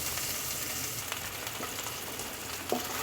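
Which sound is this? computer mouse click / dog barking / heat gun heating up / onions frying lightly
onions frying lightly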